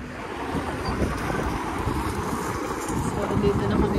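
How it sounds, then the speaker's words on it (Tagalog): Strong wind blows outdoors in snowy, bitterly cold weather at minus 20, a loud continuous roar buffeting the microphone, with people talking faintly through it. "Super, super windy."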